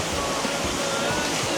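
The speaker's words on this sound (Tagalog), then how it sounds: "Dito pala galing yung tubig." Water pouring at a waterfall, a dense continuous rushing roar with no pauses, steady and close.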